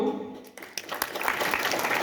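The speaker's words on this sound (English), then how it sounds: "So a huge round of applause for all of you." Applause at a school result announcement, a group of hands clapping that swells in after a voice trails off and continues steadily.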